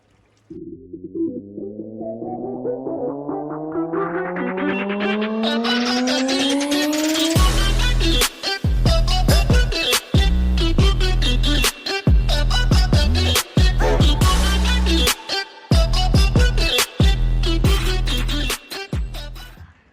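A pond vacuum cleaner's motor whines up steadily in pitch, then settles into a loud, continuous drone with periodic brief dropouts, running close by at a koi pond.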